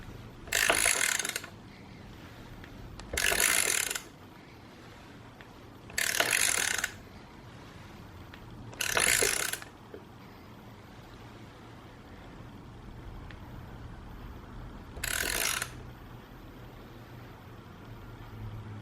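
A press tool seats a heim joint bearing into a KTM PDS swing arm: five short, loud mechanical ratcheting bursts, each about a second long, separated by quiet pauses, with the last one coming after a longer gap.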